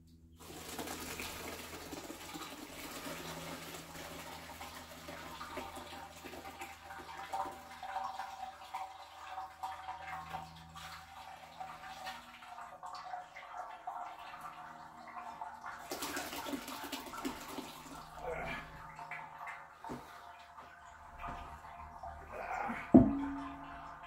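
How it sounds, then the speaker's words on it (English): Berry moonshine mash liquid being poured into a container, a steady splashing, gurgling pour that runs for most of the stretch with brief pauses and a louder splash near the end. "Well, I was going to scoop out the berries, but I think I'll just pour it in here."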